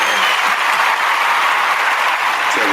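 Audience applause for inventor Olivia Robinson, a dense, loud, steady burst of clapping that runs throughout.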